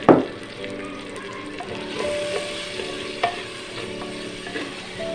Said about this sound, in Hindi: अब इसमें नाज़रीन हम डालेंगे 2 अदद टमाटर।